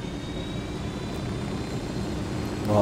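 Helicopter engine idling in Ghost Recon Wildlands, a steady broadband rumble and whoosh held at even loudness, swelling slightly at the end, with no talk.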